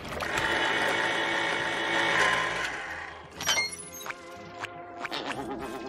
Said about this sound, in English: that one's the can opener